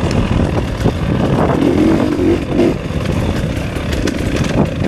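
A dirt bike engine drones loud and close in third gear along a wooded trail, holding a steady rasping note with slight swells in revs.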